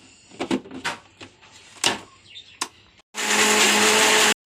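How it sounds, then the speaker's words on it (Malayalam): A kitchen mixer grinder whirs loudly, grinding coconut with chilli, coriander, turmeric, fennel, black pepper and water for a fish curry. The steady motor roar runs for about a second after some clattering of lids and utensils. "അരക്കട്ടെ"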